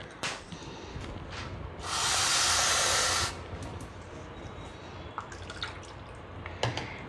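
Half a cup of water poured into a half cup of potato mixture in a home kitchen: a close, fairly loud steady hissing pour lasting about a second and a half against a quiet background.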